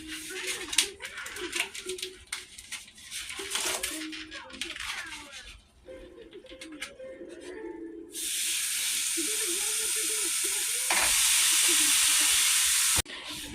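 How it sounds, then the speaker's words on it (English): Ground beef sizzling in a frying pan, seasoned with adobo, garlic powder, onion powder and garlic, with bursts of loud steady hiss, some scraping and clatter, and a voice talking at the start. "so we got our ground beef here. We're gonna add to the pan."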